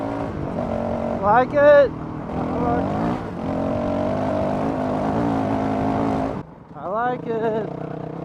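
A Honda CRF 450 RL dirt bike fitted with a Taipan AIM ECU revs up from half throttle, its engine droning loud and close, with two rising bursts of acceleration while a rider talks over the noise.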